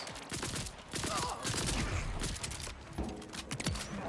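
Burst-fire SMG in the video game Borderlands 4, sharp clustered gunshot bursts repeating in quick groups with mechanical clatter, close and punchy, over game ambience with faint talk.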